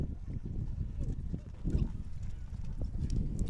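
Hooves pound the dirt of a small high school rodeo arena, a fast run of rapid, low thudding beats that stays fairly faint and continuous, with no voice heard.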